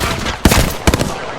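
Gunfire in the battle-royale game Apex Legends: two sharp bursts of shots close together, loud and near, with no voices over them.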